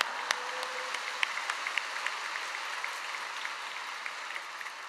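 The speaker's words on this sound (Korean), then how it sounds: "할렐루야로 큰 박수로 맞이하겠습니다" Steady applause from a large church congregation at a Friday service fills the room, continuous and even throughout, with a few sharper claps standing out.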